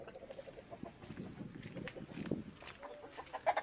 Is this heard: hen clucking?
yes